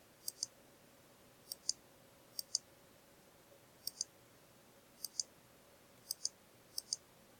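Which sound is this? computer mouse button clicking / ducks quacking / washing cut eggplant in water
computer mouse button clicking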